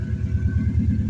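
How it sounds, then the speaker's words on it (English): A Subaru Bugeye WRX engine idles with a steady low rumble and a rhythmic, lumpy pulse, close and continuous, with no voices. "after it runs for a while, it seems to be idling all right"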